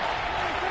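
Steady roar of a stadium crowd cheering inside a domed arena during a Dallas Cowboys goal-line drive in a PS4 football video game, loud and continuous with no clear break, mixed under faint commentary.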